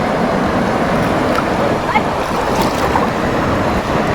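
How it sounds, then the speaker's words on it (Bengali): Dirang River in an Arunachal Pradesh valley flowing steadily, a continuous broadband rush of water with wind noise on the microphone, loud and close throughout. "জল বয়ে যাচ্ছে।"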